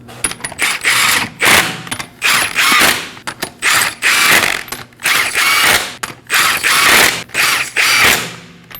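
Ratchet wrench snugging lug nuts onto the rear wheel of a Nissan Armada, loud close bursts of rapid clicking repeated about a dozen times with brief pauses between strokes, no talking.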